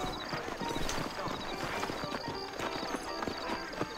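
Steady clip-clop of hooves trotting close by, with a brief horse whinny and faint background sounds, in the video game Red Dead Redemption.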